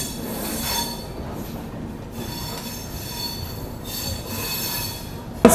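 An Indian Railways superfast express, the 20844 Bhagat Ki Kothi–Bilaspur train, running on its tracks, with steady rolling rumble, high metallic wheel squeal and faint clatter throughout; the sound stays moderately loud and constant.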